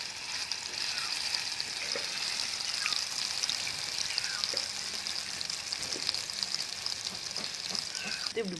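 Marinated grouper fries in hot oil for a Kerala-style fish dish, giving a steady bright sizzling hiss that runs the whole time with faint crackles and pops.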